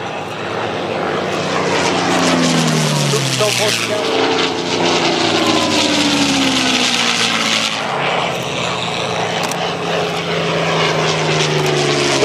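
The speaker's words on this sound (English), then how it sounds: "The wonderful planes that are helping out here in the air show." Propeller planes at an air show drone loudly overhead, engine pitch sweeping down as they pass close together, with someone speaking briefly over the roar.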